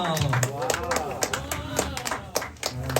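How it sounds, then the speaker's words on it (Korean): Scattered clapping from a youth church service congregation comes in uneven bursts, with people talking and exclaiming over it throughout. "부장님 나오셔서 광고할 때 우리 박수 한번 칠까요?"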